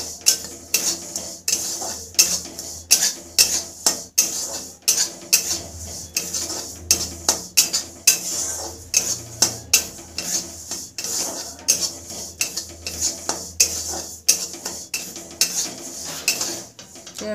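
Badam ketli mixture being stirred in a metal pan with the gas switched off, a steady run of close scraping and clinking strokes against the pan, repeated in quick rhythm throughout with no talking.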